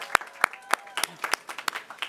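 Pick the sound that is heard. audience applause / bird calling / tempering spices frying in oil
audience applause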